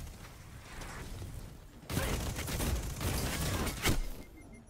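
Rapid bursts of SMG fire in Destiny 2, with a dense, crackling spray of shots starting partway through and continuing with mechanical clatter over ambient game noise.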